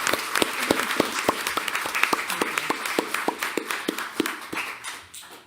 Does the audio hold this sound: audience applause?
yes